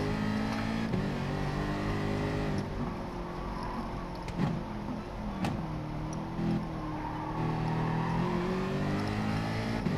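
A Corvette race car's engine drones at steady high revs around the Bathurst circuit in a racing video game, with harmonic whine and brief gear-change dips, loud and continuous throughout.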